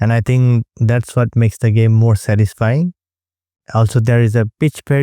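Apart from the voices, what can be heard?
No everyday noise stands out behind the speech.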